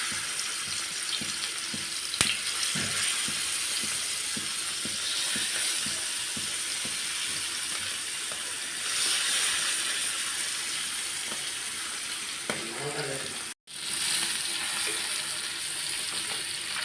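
Fish fries on a flat dosa griddle, a steady broadband sizzle that carries on continuously and close, with faint stirring and handling noises and a brief break near the end.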